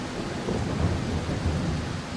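Steady rain and a rolling thunder rumble in the horror game Darkwood, a dense hiss of rainfall over a low, continuous growl of thunder, loud and close with no voices.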